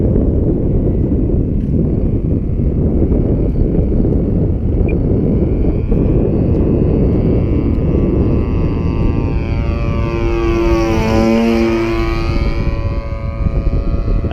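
A Phoenix 20cc warbird RC model airplane drones overhead with a steady petrol-engine buzz, then passes close by on a landing approach with a rising and falling pitch sweep, all under heavy wind noise.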